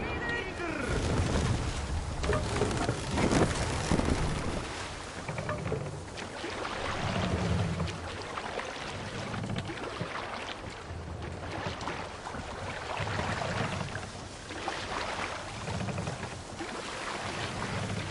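A sailing boat moves across open water in a PS5 game, with steady rushing water and wind noise and low swells that rise and fall over about eighteen seconds.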